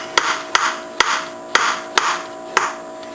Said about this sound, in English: So how I cut up my potato is I put it on my cutting board